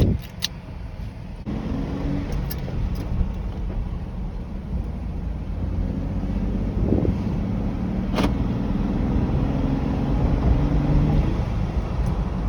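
A Jeep Wrangler with a stick shift driving on a test road, its engine and road noise a steady, continuous rumble heard from inside the vehicle, with no talking.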